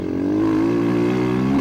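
An SSR 189 motocross bike engine drones steadily on a purpose-built motocross track, a continuous, fairly loud hum that holds nearly level pitch with a slight rise, no voices over it.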